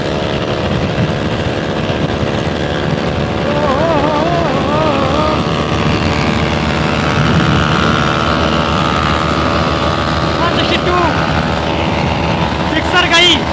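Suzuki Gixxer SF250 motorcycle in a drag race, engine note held loud and steady with harmonic tones rising and wavering as it accelerates, with other engine noise around it.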